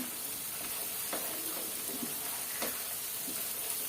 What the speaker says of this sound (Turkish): Şöyle helvayı başlayalım kavurmaya.